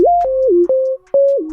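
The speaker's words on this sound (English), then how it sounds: "The missing part is basic sine wave lead, you know, which sounds like this." A basic sine wave synth lead plays a short, clean melody of sustained gliding tones with a few brief gaps and soft percussive clicks.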